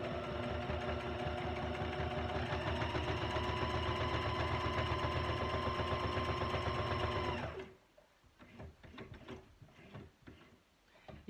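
A sewing machine runs steadily, close and loud, stitching around collage-board tags for about seven seconds, then stops, leaving only faint handling noises.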